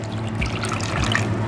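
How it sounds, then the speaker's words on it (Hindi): A quarter cup of water is poured onto three tablespoons of cornflour in a kitchen bowl, a soft, steady trickle and splash lasting about a second and a half, with no talking. "इसमें मैं अब ऐड कर दूंगी 1/4 कप पानी"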